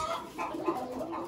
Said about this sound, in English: they keep some birds. Ooh, these are pigeons. And chicken.